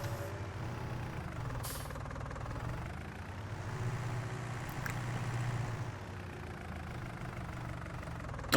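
A skid steer engine idles and rumbles steadily in Farming Simulator 19, a low, even drone at moderate distance with no talk over it.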